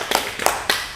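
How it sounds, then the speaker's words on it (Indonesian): Group applause at a stunting-prevention training session, a short burst of several people clapping hands in quick, uneven rhythm, close and fairly loud. "kita tepuk tangan dulu untuk kita semua"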